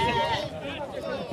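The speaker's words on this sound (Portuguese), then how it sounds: "As cabrinhas de leite aí, pessoal." Dairy goats bleating at a livestock market in Tabira, Pernambuco, with a dense, continuous layer of crowd babble and nearby voices over overlapping calls.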